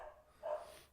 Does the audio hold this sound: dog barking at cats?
yes